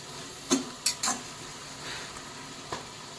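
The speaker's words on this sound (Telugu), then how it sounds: "సో ఒకసారి బాగా కలుపుకోవాలి." Cauliflower curry masala stirred in a pan: a low constant sizzle with several sharp spoon scrapes and knocks against the pan, close and fairly loud.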